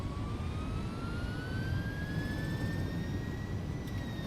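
Airbus A300-600R jet engines spooling up in reverse thrust in a flight simulator, a steady loud roar with rising whine tones that climb gradually throughout, no talking.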